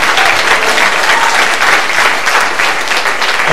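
A large audience claps hard and steadily, a loud, continuous wash of many hands filling the room, with no voice standing out above it.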